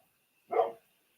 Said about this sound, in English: he barks at everything that moves